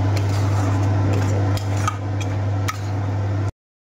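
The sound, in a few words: frying pan being handled while cooking chicken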